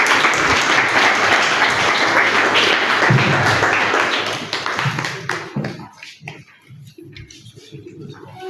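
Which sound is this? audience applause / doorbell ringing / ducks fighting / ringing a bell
audience applause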